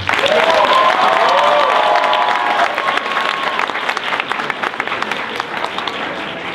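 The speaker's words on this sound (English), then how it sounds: "she definitely deserves a round of applause" A student audience at an SGA forum gives a round of applause for SGA president Simone Bray, loud continuous clapping with a few whooping voices early on, gradually thinning toward the end.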